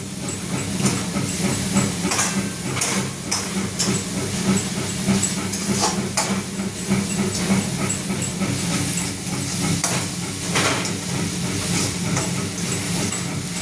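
Vermicelli dry-frying with sugar in a pan, giving a steady close hiss and crackle with faint scraping, running continuously without speech.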